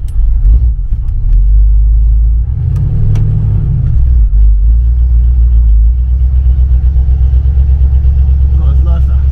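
Audi A1 car engine idling steadily and loudly close by, a deep continuous rumble with a brief rise in revs partway through.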